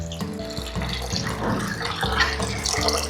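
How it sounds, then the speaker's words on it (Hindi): Water pours steadily into a pot of mixed five-lentil dal for an Uttar Pradesh keoti dal, a continuous close splashing gush with no talk. "अब इस दाल में डालेंगे हम पानी"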